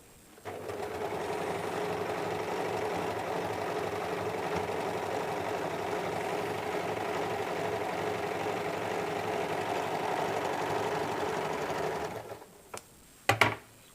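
A sewing machine runs continuously for about twelve seconds, stitching a pressed seam on a size 34 belt blouse with a close, even mechanical whir, then stops, followed by a few sharp clicks.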